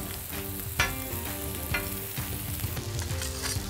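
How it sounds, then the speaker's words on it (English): Vegetables and onions fry on a hibachi-style cooktop with a close, busy sizzle, punctuated by repeated spatula scrapes and clanks against the metal surface, and no one speaking. "Getting a nice brown color, meaning our onions are sweating it out."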